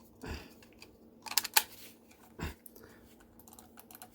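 The D-pad on a Gamesir G7 Pro controller gives a handful of crisp, close plastic clicks in an irregular sequence, two of them louder, with quiet handling between.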